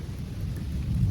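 Thunder rolls continuously through a thunderstorm with rain, a loud, deep, sustained rumble with steady rain hiss across the whole stretch, no voices.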